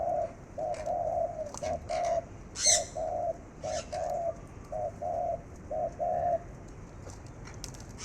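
A small bird calls in short repeated bursts with brief pauses between, fairly close, with a few sharper chirps and faint background noise.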